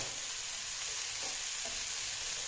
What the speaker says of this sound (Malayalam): ഇതിൽ കറിവേപ്പില കൂടി ഇട്ട് കൊടുക്കാം കേട്ടോ